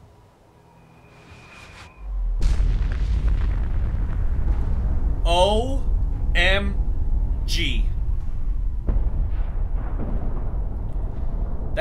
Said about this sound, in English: That's a pretty spectacular explosion.